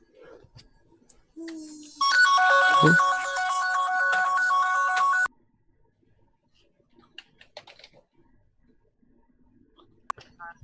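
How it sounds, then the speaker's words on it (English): A phone ringtone plays a steady electronic melody for about three seconds, loud and close, then cuts off. Faint clicks and small handling sounds follow in the quiet afterward. "Hang on, I got a phone call."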